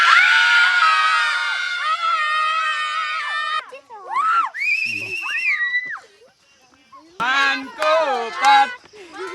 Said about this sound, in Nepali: सबैभन्दा धेरै को चिच्याउन सक्ने?